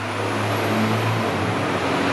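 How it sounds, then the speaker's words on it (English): An Orion VII TTC transit bus on the Airport Express route rumbles with a steady, loud diesel engine drone heard close up from inside, with no talking. "listen to that engine"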